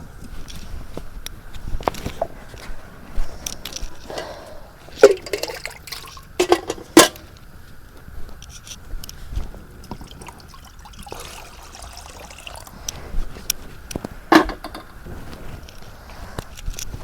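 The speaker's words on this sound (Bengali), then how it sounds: "কড়াইয়ের মধ্যে আমি পানি দিয়ে দিই।" Water is poured into a karai, a cooking pan, for boiling eggs, with a soft, uneven trickle and splashes. Several sharper knocks and clatters around the middle come from handling the pan.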